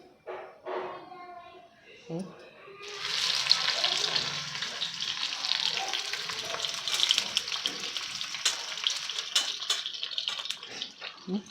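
Curry leaves fry in hot oil for a mango chutney, a dense, steady sizzling hiss that bursts up and carries on with faint crackles, following a few seconds of quieter kitchen sounds and a voice.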